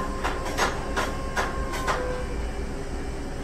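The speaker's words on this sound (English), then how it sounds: "things were getting up to 90 pounds per square inch, and the brakes will release" Train air brakes releasing once line pressure reaches about 90 psi, heard as a series of short, faint hissing puffs at uneven intervals over a low rumble, with no voices.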